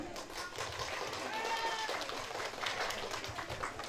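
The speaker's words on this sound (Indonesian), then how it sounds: "Boleh tepuk tangan." Crowd applause at an opening ceremony for a student arts performance and Indonesian Independence Day celebration, a steady wash of many hands clapping at moderate distance, with faint voices mixed underneath.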